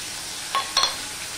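Ginger goes into hot oil in a pan while cooking a raw banana dish, and a steady, soft hiss of frying runs throughout, broken by a couple of brief clinks of utensil against pan.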